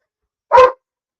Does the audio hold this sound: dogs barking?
yes